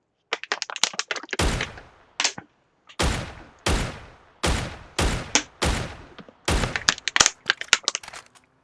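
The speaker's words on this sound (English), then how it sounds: "I'm guessing he's shooting at the flying thing." Close, loud gunfire in a first-person shooter game, with sharp cracks and short bursts of rapid shots spaced by pauses, each blast ringing out with a trailing echo, and no talk over it.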